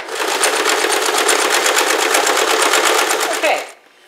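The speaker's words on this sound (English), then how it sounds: "you're going to sew it as close to the edge as you can" A sewing machine stitches binding close to the edge of a wedding quilt, giving a loud, close, rapid and steady run of stitching that stops abruptly just before the end.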